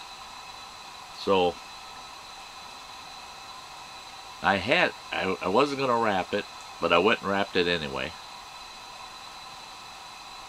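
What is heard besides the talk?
Coleman lantern hissing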